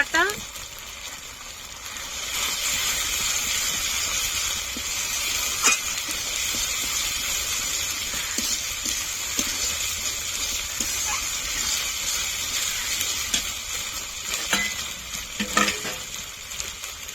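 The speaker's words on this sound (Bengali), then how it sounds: "আদা রসুন দিয়ে কিছুক্ষণ নেড়ে নেবো" Ginger-garlic paste and spices for chicken kosha are stirred in a hot pan, giving a continuous sizzling hiss with sharp spatula scrapes and clicks scattered throughout, close and fairly loud.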